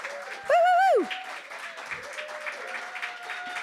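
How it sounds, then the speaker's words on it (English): A small audience applauds for Jules with light, scattered clapping that follows a loud, brief whooping cheer near the start. "So how about we just put our hands together and applaud our very wonderful Jules."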